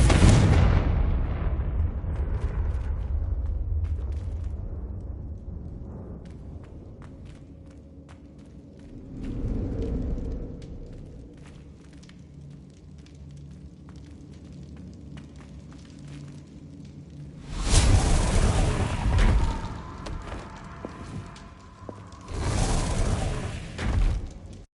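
Confringo fire-blast spells exploding in Hogwarts Legacy, with a loud booming blast at the start, a smaller burst midway, and two heavy explosions near the end, separated by quieter ambient stretches.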